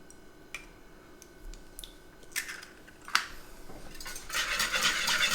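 A whisk clinks and scrapes against a bowl while mixing a Caesar dressing for a kale salad, starting with sparse taps and building into quicker, brighter rattling strokes near the end.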